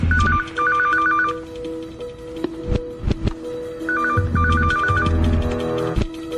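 An old-style telephone rings in two trilling bursts separated by a pause, with a few loud thumps and knocks in between.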